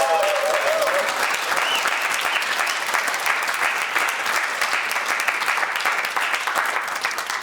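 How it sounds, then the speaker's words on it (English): A studio audience claps steadily for several seconds, a dense, even wash of applause with no speech over it. "Big hand, please."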